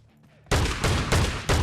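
Pump shotgun blasts in a shooter game, four loud, booming shots in quick succession after a quiet moment with faint background voices.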